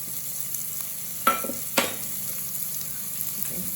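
Onions frying in a pan for a masala curry, a steady sizzle broken by two sharp clinks of a spoon against the pan, with fainter stirring later.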